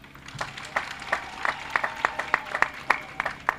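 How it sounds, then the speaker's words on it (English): Gathered attendees at a health training institute event clap in a fairly regular rhythm, distinct sharp claps repeating about three times a second, nearby and moderately loud. "I want you to clap for your grandfather."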